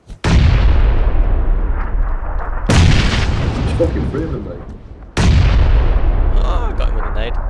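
Loud gunfire and booming grenade blasts from the PUBG battle royale game sound in three heavy bursts, each trailing off into a long rumbling decay, close and dominating.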